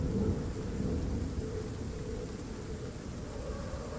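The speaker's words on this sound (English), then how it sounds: "Okay, so the rain's getting heavier." Heavy rain with thunder from an ambience track, a dense steady hiss of downpour with low rumbling underneath, constant and fairly loud throughout.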